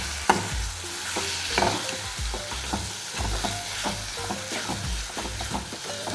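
Chopped onion and tomato sauté in a pan for a crab roast, a steady sizzle broken by frequent scraping stirs and light clinks, close and continuous with no voices.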